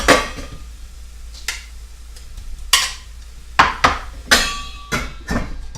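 Hot beef sausages going into a pan: several sharp metallic knocks and clatters over a steady low background hum, with faint sizzling between the hits.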